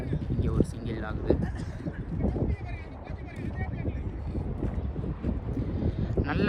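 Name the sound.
strong wind blowing with dust outdoors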